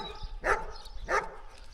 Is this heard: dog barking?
yes